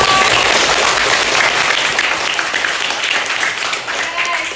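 A class of pupils claps in a classroom, a dense, fairly loud burst of applause that holds steady and slowly tapers over a few seconds.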